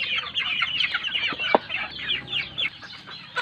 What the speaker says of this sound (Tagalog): pupuntahan naman natin yung mga alaga naming manok guys. Kasi papakainin na sila.